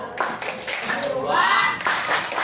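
Children clap their hands together in a counting game about spinning tops, a dense patter of claps that fills the clip with voices speaking and chanting over it.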